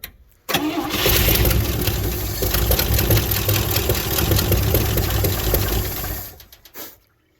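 An old truck engine cranks and catches in a snowy rally setting, then runs at a loud, steady rough idle close by before cutting out near the end.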